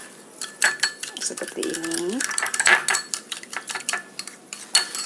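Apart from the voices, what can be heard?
stirring sauce with a spoon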